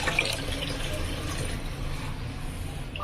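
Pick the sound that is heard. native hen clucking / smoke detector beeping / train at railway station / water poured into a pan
water poured into a pan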